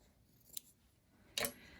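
Two brief snipping sounds of scissors cutting fabric for a pincushion, a quick faint snip followed by a louder, longer cut, with quiet pauses around them.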